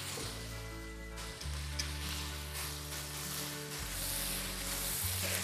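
Meat, onion and mushrooms frying in a pan for a chicken breast, potato and mushroom casserole, giving a steady low sizzle throughout with a faint hum, no voices heard.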